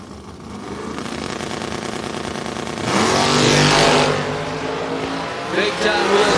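Dirt track race cars accelerating: loud, raspy engines rev up and roar past, swelling to a peak before settling into a sustained howl, with a race announcer talking over the noise.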